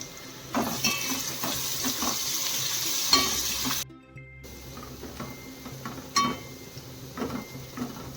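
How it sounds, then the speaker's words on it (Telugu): Sliced onions with a pinch of salt fry in oil for chicken dum biryani, giving a steady sizzle with intermittent stirring clatters. A brief silent gap cuts into the middle. "ఆనియన్స్ కొంచెం ఫాస్ట్గా కుక్ అవ్వడానికి కొంచెం సాల్ట్ యాడ్ చేశాను"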